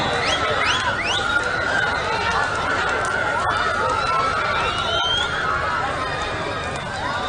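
Mumbai Upnagar supporters celebrate at a women's kabaddi semi-final, cheering, whistling and shouting in a loud, continuous crowd roar that carries from start to finish.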